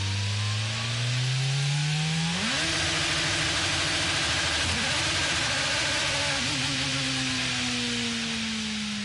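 A Honda race car engine in Gran Turismo 7 revs loud and steady, pitch climbing then shifting and settling into a sustained high drone, with no talking.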